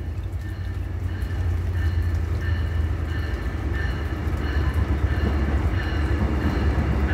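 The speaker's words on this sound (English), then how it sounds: "So this is a Brightline train that is coming." A Brightline commuter train bound for Miami passes near Broward Boulevard along the Fort Lauderdale Riverwalk. Its heavy, steady rumble fills the scene with no talk.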